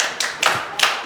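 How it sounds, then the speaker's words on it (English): A physics class applauds a student, with three short bursts of clapping hands in quick succession, close by and fairly loud. "Clap for him."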